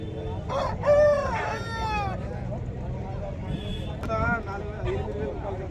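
A rooster crows at a Saturday country chicken market in Mydukur, Kadapa, two loud drawn-out calls close by with hens clucking around it, over market chatter and people talking.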